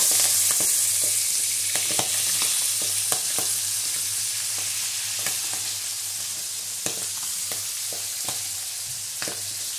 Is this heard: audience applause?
no